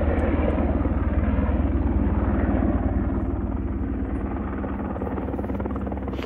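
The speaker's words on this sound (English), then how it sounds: "The chopper was circling over the other lake" A rescue helicopter circles low over a lake in Montana's Absaroka-Beartooth Wilderness, its rotor thudding loud and steady in a fast rhythmic chop, with no other sounds.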